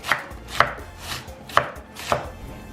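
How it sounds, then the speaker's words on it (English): A knife slices finely through cabbage on a cutting board, four crisp chopping strokes at an uneven, unhurried pace, close and clear, with no voices. "just got done slicing this cabbage"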